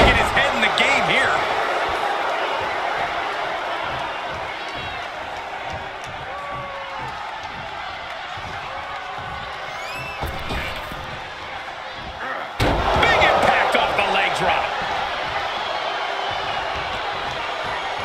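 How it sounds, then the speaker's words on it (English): A wrestling arena crowd at a WWE main event roars in a sustained wash of noise, surging again near the end. A heavy slam cuts through partway along, and a commentator talks over the din. "The roar of this crowd has been building. They're in a fever pitch right now."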